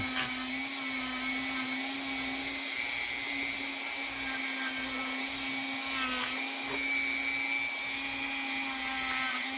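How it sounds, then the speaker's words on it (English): A Dremel rotary tool with a wire wheel removes rust from XTM X-Factor axle parts, giving a steady high-pitched whine with brief scratchy grinding as the wheel touches metal, close and continuous, with no talk. "with the wire wheel on the Dremel"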